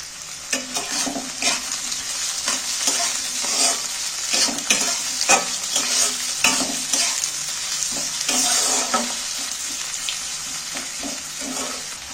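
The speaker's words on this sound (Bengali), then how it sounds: "তেলটা গরম হয়ে গেছে, কাটা পেঁয়াজগুলো এর মধ্যে তুলে দিচ্ছি।" Chopped onions sizzling in hot oil in a wok, a loud steady crackle with frequent spatula scrapes and stirring clatters across the whole stretch.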